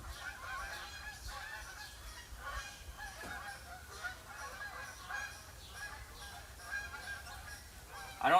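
Canada geese in a Michigan outdoor setting keep up repeated honking, the calls fairly faint and distant and layered over each other, with a brief louder knock at the very end and no speech.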